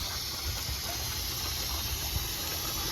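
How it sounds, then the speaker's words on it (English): A steady, broad hiss of escaping air runs without a break, even and fairly loud, with a low rumble underneath. "That noise you hear is the air escaping."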